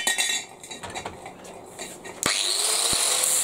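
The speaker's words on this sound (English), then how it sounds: "and weld it on." Metal scrap being worked and welded for a scrap art piece, with clanking and scraping metal early on, then a sudden loud, steady hissing, crackling burst that continues to the end, close by.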